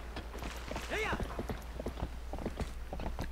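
Horse hooves clip-clop in the Zelda: Twilight Princess video game, a steady run of hoofbeats beneath game music, with a short rising whinny-like call near the start.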